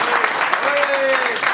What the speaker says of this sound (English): please a warm round of applause for Master Chan